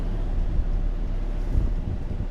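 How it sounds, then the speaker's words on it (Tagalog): Strong wind at sea in Sabana Bay buffets the microphone with a constant low roar and deep rumbling gusts, heavy and close. "Taas po ng hangin"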